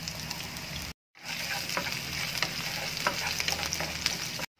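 Onion frying in a pan after ginger and garlic, part of a Filipino ginataang tulingan dish, gives a steady close sizzle with scraping stir sounds, broken by two short silent cuts.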